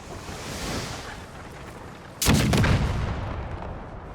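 A single sharp cannon blast from Napoleonic-era artillery in the Napoleon Era Mod video game, cracking out loud and close over a windy, rumbling battlefield background, then trailing off into a low roar.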